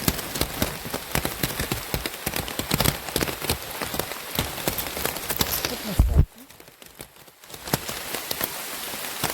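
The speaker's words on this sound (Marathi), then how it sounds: "आता भरपूरच पाऊस सुरू झाला." The season's first rain pours in the Konkan countryside, a dense patter of drops hitting nearby surfaces with sharp splashes. It drops suddenly to a quieter wash for a moment before building again.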